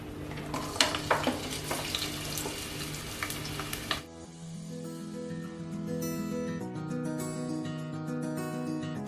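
Two medium onions hit hot sunflower oil for mutton harees and crackle and sizzle loudly with sharp pops for about four seconds, after which the frying sound gives way to steady tonal background music.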